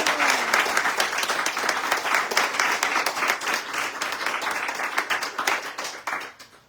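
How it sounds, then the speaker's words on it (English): Audience at a sobriety anniversary meeting breaks into sustained applause, dense clapping that holds steady for several seconds before tapering off near the end. "Give a round of applause to Valerie."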